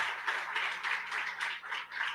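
Audience applause at an inclusion-week talk show on ableism, a steady dense patter of many hands clapping together, fairly close and even, with slight swells in intensity and no voices over it.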